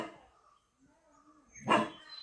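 A dog in a Wayanad farmyard gives a single sharp bark after a short faint whine, close by and otherwise quiet.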